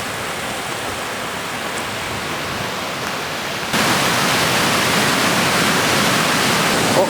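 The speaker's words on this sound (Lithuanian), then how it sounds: "Tirpstantis sniegas. Gana švarus vanduo." Meltwater from thawing mountain snow flows in a steady, hissing rush nearby, growing noticeably louder and fuller about halfway through, with no voices.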